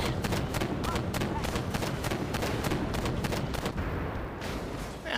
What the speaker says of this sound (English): Now he's fighting an autocannon tank.